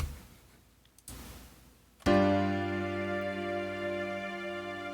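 A piano sounds a single chord, struck firmly after a faint quieter note and left ringing and slowly decaying, heard alone.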